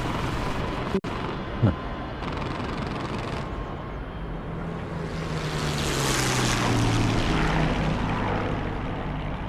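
A Spitfire propeller aircraft in a flight simulator game drones steadily as its engine note swells and a rushing wash builds midway, after a few sharp clicks near the start.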